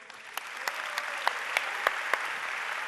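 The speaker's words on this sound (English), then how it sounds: "A bigger round of applause." Concert audience applause for a sarod and tabla performance, a steady wash of many hands with a few sharper claps standing out, moderately loud and continuous throughout.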